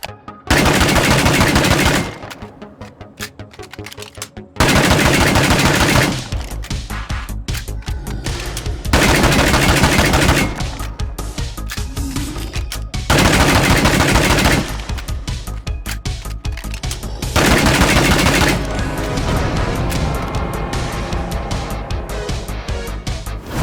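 Shotgun blasts from the State of Decay 2 game, a DP-12-style combat shotgun, firing in loud repeated bursts separated by short gaps, with a steady background of game ambience between volleys.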